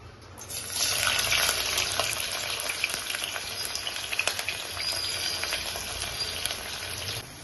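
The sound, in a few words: chopped onions frying in oil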